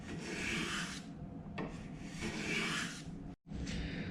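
Rasping and rubbing away excess wood on a guitar neck being shaped: two long, steady back-and-forth strokes with a brief tap between and a short pause near the end, close and fairly loud.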